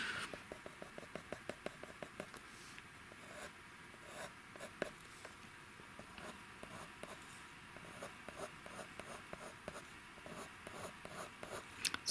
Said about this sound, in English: I'm working with a bluntish pencil at the moment, which is giving me these nice thick strokes.